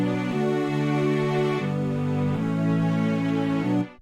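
Layered synth pads mixed together into one thick sustained chord, shifting through several chord changes and cutting off at the end, with no voice over it.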